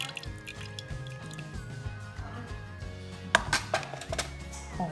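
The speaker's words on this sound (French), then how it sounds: "Donc on remue pour qu'elle continue à refroidir." Cooled rhubarb compote is stirred with a spoon, giving soft wet squelches and drips in an uneven rhythm, close and fairly quiet, with a few sharper clinks near the end.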